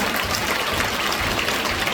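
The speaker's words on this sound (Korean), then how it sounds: "귀한 사명 감당하고 계신 선교사님들께 큰 박수 부탁드립니다" A crowd applauds missionaries at a Full Gospel world mission convention, a dense, loud, continuous wash of clapping with no voices on top.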